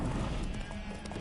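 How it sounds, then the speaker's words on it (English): Roach the horse in The Witcher 3 makes a short burst of hoof clops and restless horse sounds, dense and up close, with no speech. "Spooking my horse. Roach doesn't like ghosts."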